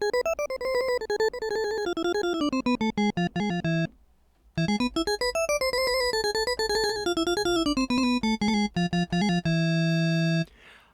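A Yamaha Genos arranger keyboard plays a bright melodic phrase with 12 kHz boosted and extreme bass cut, loud and steady, with a brief pause midway and a sustained chord at the end; no one talks.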